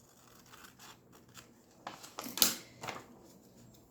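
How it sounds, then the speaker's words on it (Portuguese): Scissors snip quietly through fabric along a marked pattern for a clutch bag, with soft scattered cuts building to one sharp, louder snip midway, then a few more. "E agora eu posso cortar aonde eu marquei."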